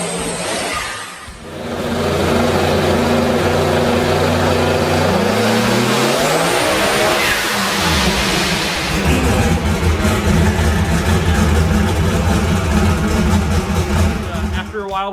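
A 2500+ hp turbocharged Hemi V8 with a blow-through carburetor is run on a hub dyno in a car. It idles briefly, then revs up and holds a loud, sustained high-load roar with rising and falling pitch.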